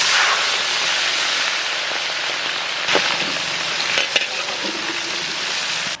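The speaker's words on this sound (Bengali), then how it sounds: "সর্ষের তেল, চিংড়ি মাছ ভেজে নেব।" Prawns sizzle steadily in hot mustard oil in a Bengali village kitchen, a dense, loud crackling hiss throughout with a few sharper pops and spatters near the middle.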